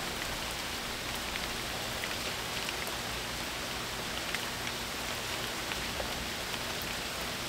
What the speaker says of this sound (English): I wanted to sit in the rain